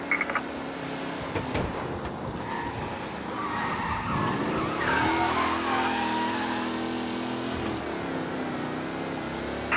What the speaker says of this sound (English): Officers reporting a race car driving at speed through the city